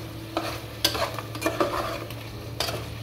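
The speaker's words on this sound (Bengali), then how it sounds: "আর এদিকে চিকেনটা আমি নাড়া দিয়ে নিব একটু" Chicken sizzles and fries in a pan for khichuri while a utensil stirs it in a few scraping bursts, with a low steady hum underneath at moderate, close range.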